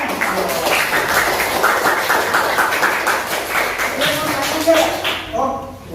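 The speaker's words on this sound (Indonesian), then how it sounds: "Tepuk tangan." A classroom of students claps together, a dense, fairly loud patter of handclaps with uneven taps, continuing steadily before thinning out near the end as voices start to come through.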